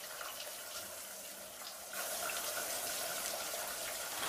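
Shower water runs in a Family Guy cartoon scene as a steady hiss of spray, growing louder about halfway through and continuing evenly to the end, with no voices.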